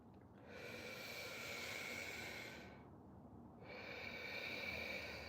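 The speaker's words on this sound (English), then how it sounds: "Those are big inhalations and exhalations" Big, deep breaths during a breath-focused workout: two long, loud rushing inhalations or exhalations, the first about two seconds, a brief pause, then another, close to the microphone.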